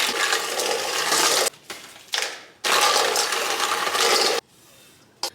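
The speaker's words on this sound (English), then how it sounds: "Add in our dry ice and mix it up." Dry ice is stirred into a green-tinged Lucky Charms ice cream base in a mixing bowl, producing loud rough churning and hissing bursts broken by short near-silent pauses.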